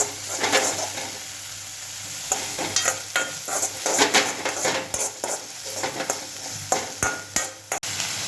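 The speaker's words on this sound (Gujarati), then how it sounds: "થોડી આપણે ફ્લેમ તેજ મીડિયમ કરી અને ટમેટા કૂક થવા દઈશું" Tomatoes sizzle in a pan over medium-high flame while a spoon stirs and scrapes repeatedly, with clinks of utensils throughout and no talking.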